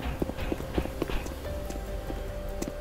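Animatronic Bonnie running in a Five Nights at Freddy's co-op game: a rapid series of hollow, thudding footsteps moving along at medium distance, steady and unaccompanied by talk.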